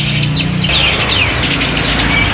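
Repeated thin, high chirps from a young fledgling songbird at a bird market in Bekasi, Indonesia, over a steady low hum, several quick calls in a row at close range.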